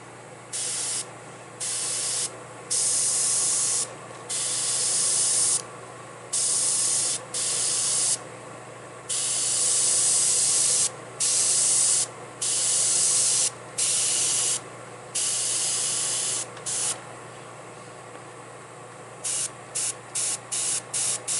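Timbertech airbrush spraying paint: close, hissing bursts of spray that start and stop repeatedly, some long and some short, ending in a quick series of rapid puffs over a low steady compressor hum.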